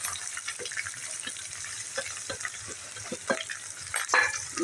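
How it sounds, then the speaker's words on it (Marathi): Onion frying with green chillies and curry leaves in a pan, a quiet, fairly distant sizzle with occasional stirring scrapes and knocks, no talk. "चांगला आपण कांदा लाल होईपर्यंत आपण आता परतून घेऊया"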